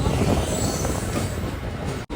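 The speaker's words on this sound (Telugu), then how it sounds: "సో భువనేశ్వర్ ఎక్స్ప్రెస్ ట్రైన్ ఇది." The Bhubaneswar Express train at Katpadi Junction rolls past with a loud, steady rumbling roar and faint wheel squeal, close and continuous until an abrupt cut.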